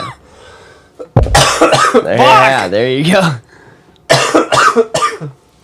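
A man coughs and clears his throat in short harsh bursts between stretches of close conversation, a worker who inhales hazardous chemicals on the job day after day.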